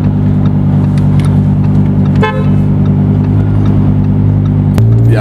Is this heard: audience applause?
no